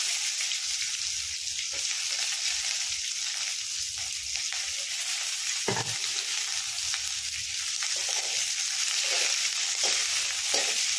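Chopped onion frying and sizzling in a pan for Odia-style vermicelli upma, a loud, continuous hiss with occasional scrapes and clacks of stirring, no talking.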